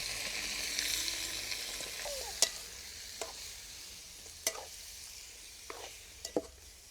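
Meat fries in oil with cumin seeds and dried red chillies in a home kitchen, a soft continuous sizzle with a few sharp clinks of a stirring spoon against the pan.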